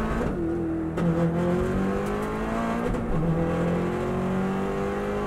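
A Subaru race car climbs a steep uphill section on a full flat-out lap, its engine note rising through a gear then pulling hard and slowly climbing in pitch, loud and close with no voices.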